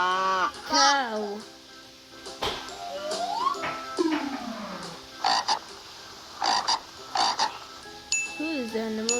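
Several loud frog croaks, repeated guttural calls, stand out amid a child-oriented animal-naming exchange, with voices talking and sliding cartoonish tones between the croaks.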